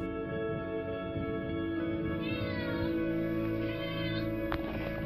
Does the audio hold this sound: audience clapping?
no